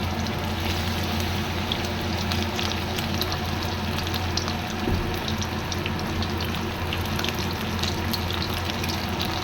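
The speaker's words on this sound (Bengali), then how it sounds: "এইভাবে আমি সব পকোড়াগুলো ভেজে নেব।" Pakoras deep-frying in hot oil over low heat, a steady dense hiss and bubbling crackle that runs unbroken and fairly loud throughout, with no talking.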